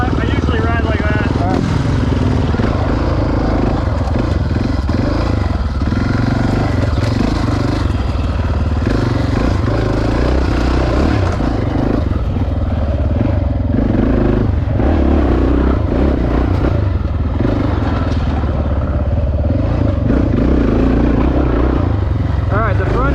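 Honda XR650R motorcycle ridden by a couple, a steady rough engine drone running the whole time with wind buffeting and rattles, loud and close, with no clear pauses.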